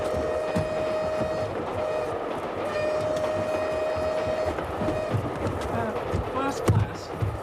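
Interior of a moving 1983-era passenger train with a steady rumbling ride, a sustained whining tone and occasional clunks throughout, while people talk over it.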